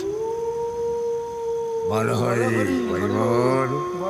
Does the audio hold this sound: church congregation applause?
no